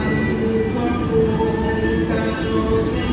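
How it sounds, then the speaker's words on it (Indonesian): A Malabar morning passenger train from Bandung rumbles past at close range, a steady loud roll of wheels and carriages with faint tonal squeals, no talk over it. "Ini dia, teman-teman, kereta api Malabar pagi dari Bandung."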